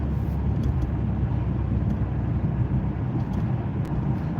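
Steady low rumble of an Impala SS, a large American sedan, driving on metro roads during a driving lesson, heard from inside the cabin with constant road and engine noise and no talk.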